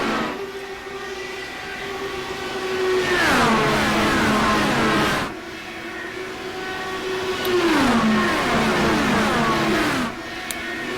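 An Indy race car engine in the iRacing simulation of the Indianapolis 500 revs loudly and continuously, its pitch climbing and then dropping sharply twice as it sweeps past or shifts, with no talking.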